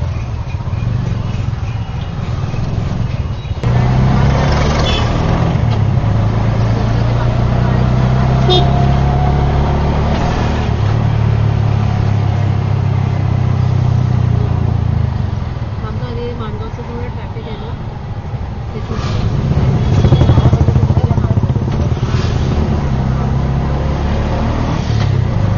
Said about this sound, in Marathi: इथे थोडीशी ट्रॅफिक लागली.